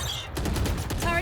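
A Killjoy turret firing in the tactical shooter Valorant, a brief rapid burst of repeated shots, faint and quick, with speech over it.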